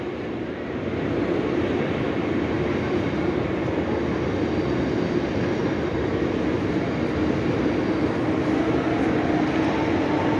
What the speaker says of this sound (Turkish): ICE dediğimiz hızlı trenler.